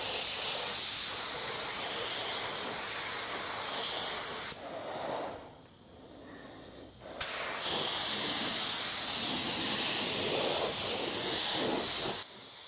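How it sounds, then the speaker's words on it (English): A paint spray gun hisses in long, steady bursts close by, spraying primer on a car, with a brief pause in the middle before spraying resumes. "let's start spraying the wet bed"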